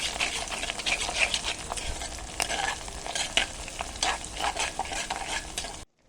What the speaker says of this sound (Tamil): இப்போ இந்த பச்சை மிளகாவும் பூண்டும் நல்லா வதங்கியாச்சு